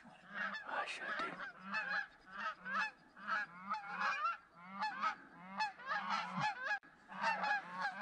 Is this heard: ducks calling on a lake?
yes